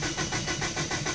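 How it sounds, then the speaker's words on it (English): A flooded car engine cranks with the throttle held wide open, with rapid rhythmic starter pulses and a rough, loud mechanical churn over about a second. "I'm going to turn the key on, neutral, and try to start the car."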